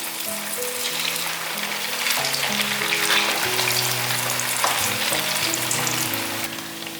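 Tofu frying in oil in a vegan home kitchen gives a steady, close, crackling sizzle that runs throughout, with soft background music underneath.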